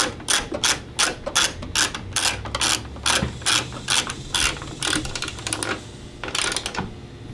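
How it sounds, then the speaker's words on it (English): A ratchet tightening a 10mm bolt on the tailgate of a 2018 Ford F-150, steady rapid clicking in repeated strokes, close and loud with brief pauses between pulls. "Then you will come up back to this 10mm bolt. Tighten it down."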